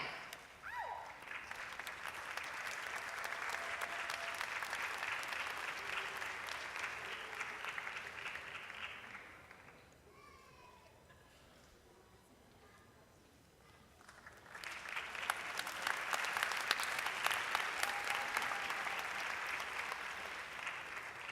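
A graduation ceremony audience at the Université de Montréal applauds at length in two long bursts of dense clapping, with a quieter pause between them.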